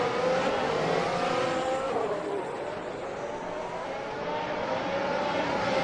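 Race cars in the Assetto Corsa video game at the British Grand Prix circuit, a steady engine roar with rising and falling revs as the pack brakes for a corner, continuous and fairly loud.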